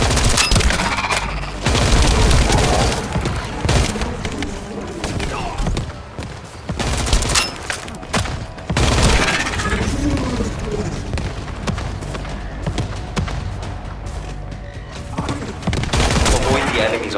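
Enemy artillery fire in The First Descendant video game, heavy booms and dense rapid gunfire pounding almost continuously through a loud battle, with brief lulls before new barrages, and a voice briefly heard under the din.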